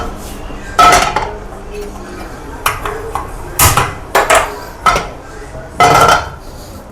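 Ground raw mango chutney scraped out of a grinder jar into a vessel, with several loud, close metallic clanks and scrapes of a spoon against steel separated by short quiet gaps.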